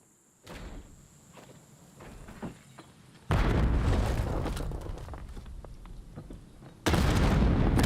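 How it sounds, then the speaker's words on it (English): Grenade blasts and gunfire in a competitive video game match on the map Vault, with scattered shots and footsteps building to two heavy, roaring explosion bursts that stay loud and sustained. "I don't think any of the nades are connecting."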